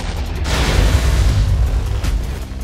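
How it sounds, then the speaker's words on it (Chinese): Cannon shockwave blast in a Minecraft Jujutsu Kaisen mod, a loud booming explosion with a deep rumbling tail that swells and lingers for a couple of seconds. "我自己的冲击波，不愧是我的大炮啊"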